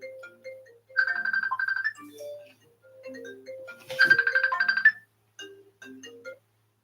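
A mobile phone rings with a repeating electronic melody, short tonal notes and two brighter trilling bursts, clear and close against a quiet background.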